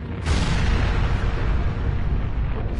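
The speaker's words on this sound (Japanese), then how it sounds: "爆発。" A loud, sustained explosion in the Persona 5 Royal video game, set in a cruiser-themed palace, bursts in sharply after a brief pause and rumbles on with a dense, roaring blast that fills the rest of the moment without speech.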